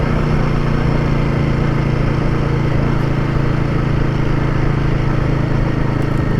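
A Royal Enfield Guerrilla 450 motorcycle held in second gear on a rough road gives a steady, close, continuous engine drone with low rumble, loud and unbroken throughout, with no talk.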